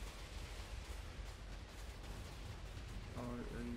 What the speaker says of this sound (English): So now we're gonna get some torpedoes in there.